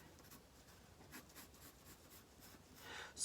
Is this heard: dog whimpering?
no